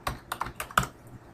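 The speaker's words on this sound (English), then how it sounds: "we're going to type in BizHub here" Quick burst of about five keystrokes on a computer keyboard in an office setting, close and crisp, with clicks spaced irregularly and no talking.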